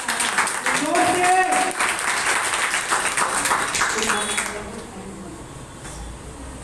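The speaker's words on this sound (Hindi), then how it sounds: "जोर से ताली बजाएंगे" A church congregation at a Sunday Hindi prayer meeting claps loudly and rhythmically while a voice calls out over it; the clapping fades after several seconds into quieter room sound.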